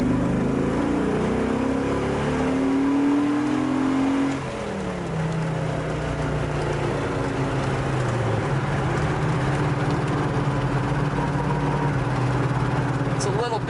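A 1970 Dodge Challenger engine revs up through the gears, pitch climbing and dropping with each shift, loud and close, with faint talk underneath.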